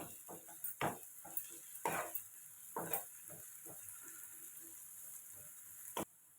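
Ginger paste frying in a pan for an egg fry, faint and close, with a soft sizzle under a series of spoon scrapes and taps on the pan, ending abruptly.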